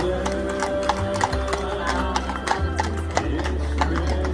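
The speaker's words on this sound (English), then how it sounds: "Look at the ponies." Ponies' hooves clip-clop in a quick, uneven run of sharp clicks, close and moderately loud over a low steady hum.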